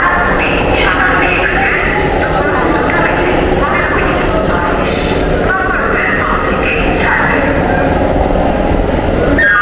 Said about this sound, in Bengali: এখন 2:15 আমাদের ট্রেন ছাড়লো।